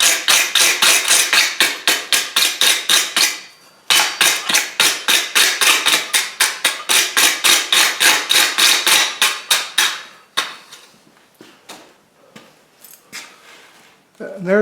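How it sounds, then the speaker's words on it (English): Rapid metallic hammer taps on a forged chain link set on an anvil horn ring out in steady bursts, loud and close, pausing briefly before continuing, then trailing off into quieter scattered taps. "I just set them on the horn and I tap them with the side of the hammer"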